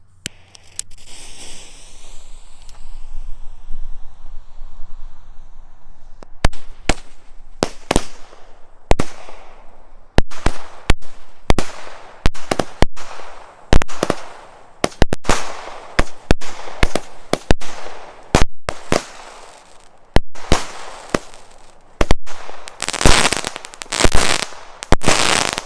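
A Shades of Gold 25-shot firework cake from Fireworks International fires a rapid, uneven string of loud bangs and crackling bursts, starting with a whooshing launch and then booming shot after shot for about twenty seconds outdoors.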